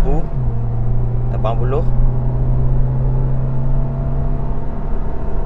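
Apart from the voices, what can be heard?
Perodua Aruz car accelerating during a 0-100 km/h test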